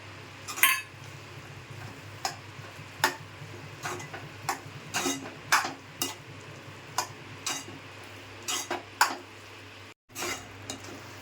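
A spoon scrapes and clinks against a pot as salt and spices go into a sprouted moth bean curry with onions, making irregular taps and scrapes over a soft low hum, with no voices.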